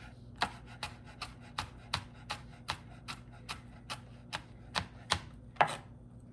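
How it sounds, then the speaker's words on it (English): A knife roughly chopping and mincing food on a cutting board, about fifteen sharp, evenly spaced knocks at a steady rhythm, close and clear with no talk. "And then I just go ahead and give it a good rough chop. Mince it up as fine as possible."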